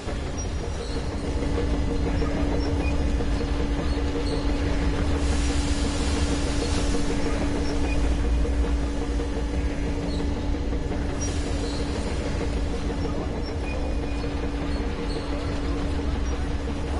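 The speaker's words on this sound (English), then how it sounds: "Attention! The turntable is switching on." A railway turntable switches on in the video game Metro Exodus, giving a continuous mechanical rumble with a steady hum. Harsh bursts rise over it at intervals across the full seventeen seconds.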